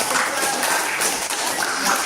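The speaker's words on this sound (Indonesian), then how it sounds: "Ya, tepuk tangan dulu." Students in a classroom applaud. Dense, even clapping fills the whole short stretch without a break.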